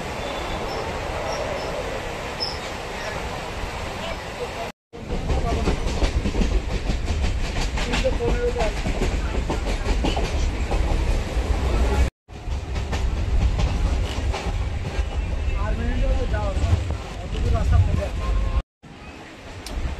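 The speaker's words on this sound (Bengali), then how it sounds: "এবার আমাদের ট্রেন প্রবেশ করছে তার পরবর্তী হল্ট বালিহল স্টেশন" A Sealdah–Baruipara local train rolls along the track toward Ballygunge, its loud, continuous rumble and clickety-clack interrupted by brief cuts. Faint voices sometimes rise above the noise.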